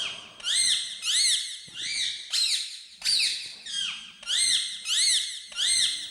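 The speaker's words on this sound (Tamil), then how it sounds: "அது கிளியின் சத்தம் என்பது புரிந்தும் கூட திகிலாகவே இருந்தது." A parrot squawking: a series of about eight sharp, shrill calls that sweep up and down in pitch, arriving in a regular rhythm with brief gaps between them, fairly close and otherwise quiet.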